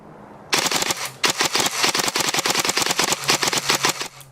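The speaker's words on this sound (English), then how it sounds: "This might hurt to watch as I finger blast this rifle" A G&G Cobalt Kinetics BAMF Team Rifle airsoft gun fires fast semi-auto shots. A lone pop comes first, then a long, rapid, crisp string of close shots after a brief pause, ending abruptly.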